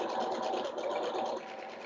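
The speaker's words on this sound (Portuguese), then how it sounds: "Então, retrocesso e costura." Sewing machine running a short backstitch on a 0.8 cm seam, a steady close whirring hum that holds for under two seconds, with no talk.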